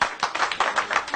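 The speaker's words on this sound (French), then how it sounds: "On l'applaudit." A brief burst of audience hand clapping, quick and evenly pulsed, close and fairly loud over just over a second.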